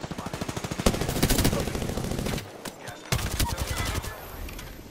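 Loud, rapid automatic gunfire from a fight in the Apex Legends shooter game, sustained rattling bursts with a short pause near the middle before more shots, with faint in-game voices underneath.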